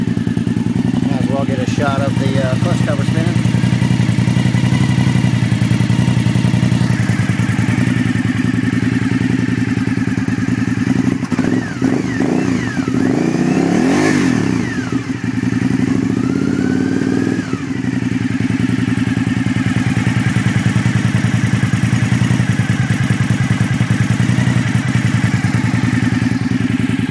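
Custom 1997 Suzuki TL1000S engine running with the clutch cover spinning, a loud steady mechanical drone heard close throughout with a faint clattering texture.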